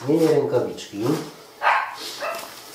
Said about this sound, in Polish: pieski szaleją